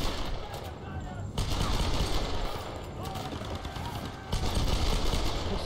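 Rapid video game pistol fire crackles in steady dense volleys, close and loud, swelling in intensity in a couple of bursts with faint bird-like chirps mixed in.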